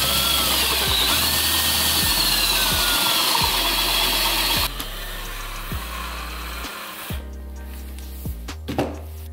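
Power drill boring through metal on a 4L80E transmission part, enlarging the hole to 3/16 inch; a steady whining grind runs loud and near, then drops off with short bursts and clicks toward the end.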